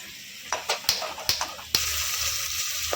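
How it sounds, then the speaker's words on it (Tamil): Coriander seeds, dried chilli, cinnamon, cardamom, cloves and other whole spices dry roasting in a pan for mutton kuzhambu, with a few sharp clicks and scrapes of stirring, then a steady dry crackle. "இப்போ இதை நல்லா ட்ரை ரோஸ்ட் பண்ணிக்கலாம்"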